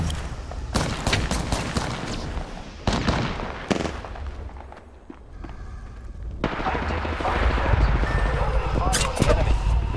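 Rapid bursts of gunfire from the battle royale game Apex Legends crackle through a chaotic firefight, with repeated loud volleys, a short lull near the middle, then sustained shooting again, mixed with game voice lines.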